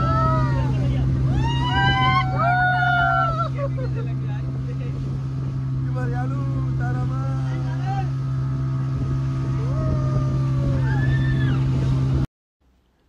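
A motorboat's engine drones steadily as it rides a rough Arabian Sea off Malpe Beach, Udupi, with wind buffeting and excited voices and shouts rising over the hull's thumps until it cuts off near the end.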